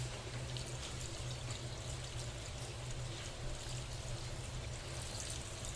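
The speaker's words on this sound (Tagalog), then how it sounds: "Tapos, maglalagay na ako ng suka. Tapos, tubig." Vinegar and water pour steadily and continuously into a pot, a close, even splashing rush with no talking.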